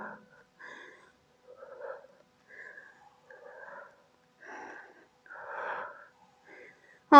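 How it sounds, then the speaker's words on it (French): Forceful breaths push out in short bursts during a home abdominal, thigh and glute workout with no equipment, about eight close, breathy exhales with soft gaps between, ending in a sharp sound. "On souffle bien."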